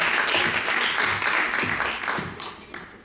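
Audience applause at a university graduation ceremony in Hamburg, a dense burst of many hands clapping, loud at first and then tapering off toward the end.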